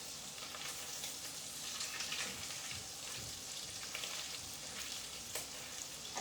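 Pancetta sizzles and fries steadily in a pan, rendering fat for spring green spaghetti carbonara; a dense, continuous crackle holds close and fairly loud throughout with no pauses.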